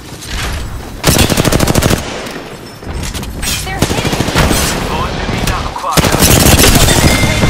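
Rapid automatic gunfire in Apex Legends, loud bursts of rattling shots in several volleys, with a voice speaking over parts of the exchange.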